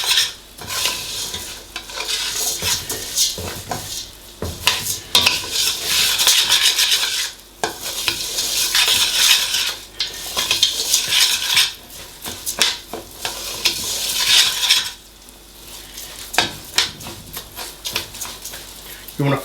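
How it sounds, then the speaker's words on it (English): Garlic and rice sizzle in hot oil as a utensil stirs and scrapes the pan, with rhythmic clattering strokes over a steady close frying hiss. "now the garlic is starting to fry"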